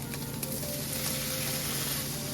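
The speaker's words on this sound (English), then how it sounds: "I'm going to add in the mushrooms." Mushrooms dropped into a hot pan for a red sauce meat pasta sizzle steadily, a dense even hiss of frying that stays loud and close throughout with no voices.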